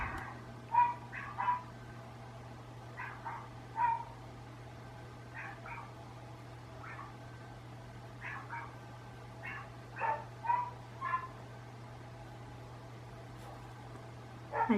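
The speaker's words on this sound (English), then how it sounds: "Now all the dogs are talking to one another." Dogs bark in short clusters of two or three at a distance, several voices trading barks over a steady low hum, with quiet gaps between bursts.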